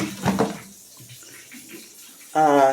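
A kitchen faucet in Ghana, where water pressure is poor, opens near the end with a loud, sputtering, tonal whine of flow, following a brief voice and a quiet stretch.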